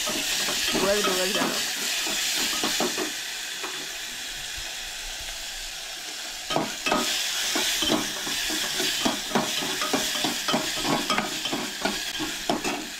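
Tomato frying in a hot oil tempering with curry leaves for a Goan sprouted moong curry, a steady close sizzle with bursts of stirring and scraping in the pan, busier in the second half.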